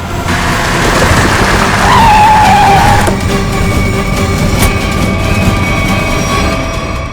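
A car brakes hard and skids to a halt during a chase in a crime drama, a loud tire screech rising over engine rumble and fading into a steady idle-like drone.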